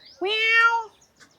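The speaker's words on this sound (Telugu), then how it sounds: "పిల్లి అక్కడి నుంచి వచ్చింది" A cat gives a single clear, drawn-out meow close by at an outdoor village attraction in Dubai, followed by quiet.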